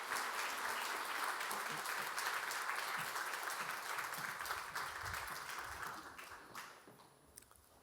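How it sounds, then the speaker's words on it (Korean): A church congregation at a Sunday worship service claps together in a steady dense burst, heard from a little distance, the applause thinning and fading out over the last couple of seconds with a few scattered claps and faint murmurs. "우리 박수 다시 한번 하겠습니다."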